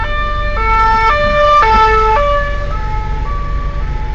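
A police siren on a snowy road sweeps through a two-tone wail, loud and close, over steady road and engine rumble, with no one talking.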